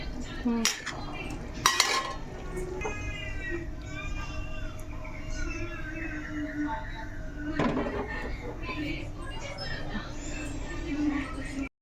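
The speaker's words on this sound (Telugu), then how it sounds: "ఒకసారి కలుపుకుందాం." Fish curry is stirred in a pot at home, a spoon scraping and clinking against the metal in a continuous run, close up, while voices, including a child's, talk in the background.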